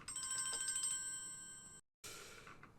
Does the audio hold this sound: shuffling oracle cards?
no